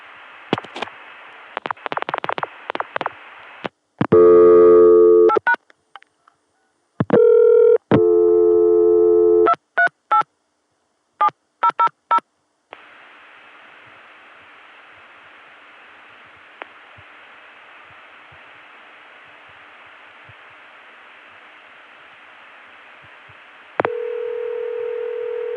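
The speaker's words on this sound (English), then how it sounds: "I'm dialing 238, then any digit." Telephone dialing on a 1981 ConTelNet CCSA trunk: bursts of short dial pulses and clicks, then several clear multi-tone digit beeps, followed by a long steady line hiss and a final sustained tone, with no talk.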